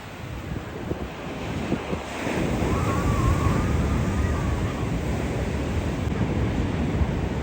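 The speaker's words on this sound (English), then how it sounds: "The waves are a bit rough today, so we'll see what this holds for us." Rough surf breaking on a Caribbean beach at Cane Garden Bay, a loud continuous roar of churning waves that swells after a quieter start, with heavy wind buffeting the microphone.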